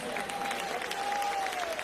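A church congregation claps and praises during a service, brief steady applause with crowd voices and a sustained tone running underneath.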